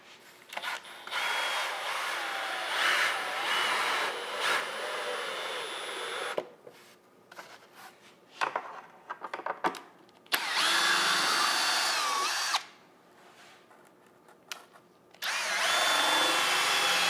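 A power drill drives form alteration screws into a taxidermy form, whirring in several bursts of varying length separated by short pauses and quieter handling sounds, fairly close, with no speech.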